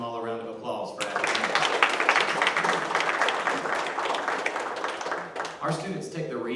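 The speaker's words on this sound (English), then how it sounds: "Let's give them all a round of applause for that." Audience applause at a 5th grade promotion ceremony for award recipients, rising sharply into a full, dense round of clapping for about four seconds before fading, with someone speaking just before and after.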